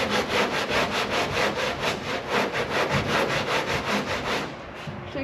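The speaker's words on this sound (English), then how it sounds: "I'm going to take it down until I start to see some bare metal spots poking through, and then I'll stop and switch to 80" Bondo body filler is sanded down toward bare metal by hand, with rhythmic, close, loud rasping strokes repeating about twice a second before easing off at the end.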